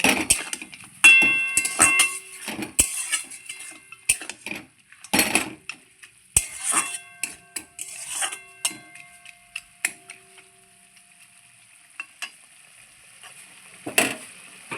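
A spoon stirs a paste of ginger, cumin and green chili frying in a pan with greens: soft sizzling under irregular scraping and clinking taps against the metal, with no talk.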